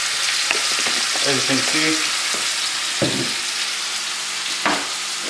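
Garlic frying in oil in a pan, a steady close sizzle with occasional stirring clinks, and a brief voice over it.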